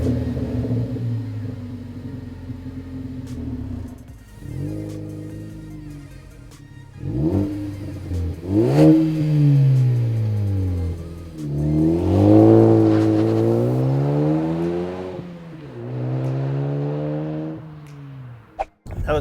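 A 2013-2018 Ford Focus ST with a Ford Performance by Borla stainless steel cat-back exhaust revs up and down several times with a deep, throaty exhaust note, plus a faint turbo whistle and whoosh on the higher revs.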